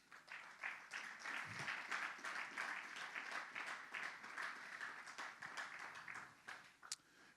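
A church congregation claps and applauds steadily for several seconds, a dense, even wash of hand claps that fades toward the end with a few last scattered claps.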